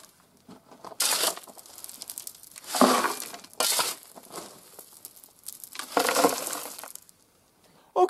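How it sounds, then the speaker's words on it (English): Gravel is shoveled into wooden test panels at an outdoor gravel pit, producing repeated bursts of crunching, clinking stones poured in separate scoops with quiet gaps between them. "let's go ahead and fill these up with gravel from our gravel pit here"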